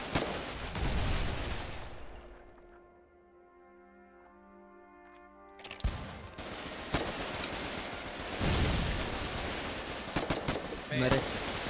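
Gunfire in the Foxhole war game, loud bursts of rifle and machine-gun shots with a low horn-like tone in a lull, then renewed heavy firing and explosions, with a player's voice faintly mixed in.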